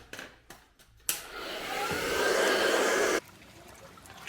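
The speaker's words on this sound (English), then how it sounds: "So the hairdryer worked." A hair dryer switches on with a sudden click, then blows in a loud, steady whoosh for about two seconds before cutting off abruptly.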